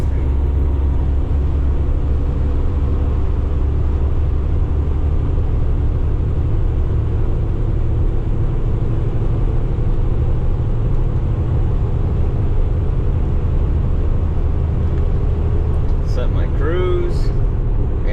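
Steady, loud in-cab drone of a 2024 Kenworth T880 truck driving and working through its transmission, a continuous low rumble with no distinct break at each gear change.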